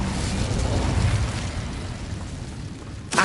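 Incendio fire spell cast in the Hogwarts Legacy video game, a dense continuous roaring whoosh of flame, loud and close, holding steady for about three seconds before a sharp burst at the end.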